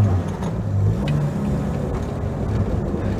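A Jaguar E-Type drivetrain whines while driving, its transmission whine riding over a low engine drone heard from inside the car.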